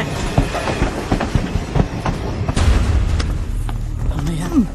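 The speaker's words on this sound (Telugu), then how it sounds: "ట్రైన్ మూవ్ అయిందా?" A train rolls along with rhythmic clickety-clack and heavy rumbling, close and loud, with occasional clanks and a brief squeal near the end.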